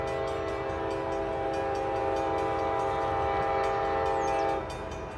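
A northbound CSX freight train passes close by, a loud, sustained multi-tone horn blaring over the steady rumble of the train for most of the clip before easing off at the end.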